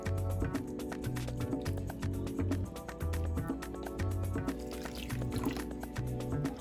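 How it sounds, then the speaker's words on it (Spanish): Warm water is poured into a bowl while making cinnamon roll dough, a soft liquid trickle and drip under rhythmic background music. "we're going to use 1/3 cup of warm water"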